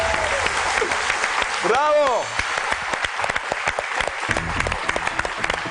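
A studio audience at a TV quiz show breaks into loud, sustained applause, while a voice calls out once and a brief electronic swoop rises over the clapping near the start.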